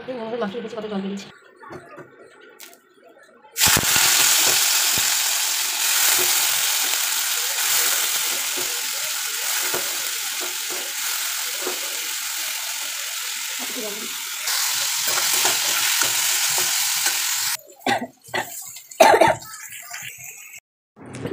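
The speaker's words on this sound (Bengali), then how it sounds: "তো আমার এদিকে আলু ভাজাও হয়ে গেছে" Potatoes fry in a pan with a loud, steady sizzle that holds for about fourteen seconds, set between stretches of someone talking and clearing her throat.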